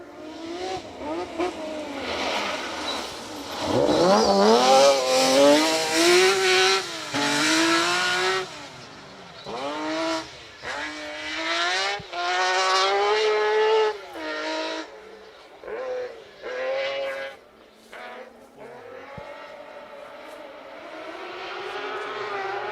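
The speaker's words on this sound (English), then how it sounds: "Let's have a little listen to this Lancia Stratos as it makes its way towards us." A Lancia Stratos rally car's engine screams closer through rising and falling revs at the RAC Rally, then blips and fades in bursts as it passes and moves away.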